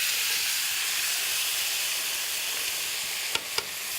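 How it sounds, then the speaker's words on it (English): Apple juice poured into a hot pan of garlic sizzles with a steady, even hiss that holds throughout, ending in two sharp little clicks. "I'm going to add into that pan right now a little bit of apple juice"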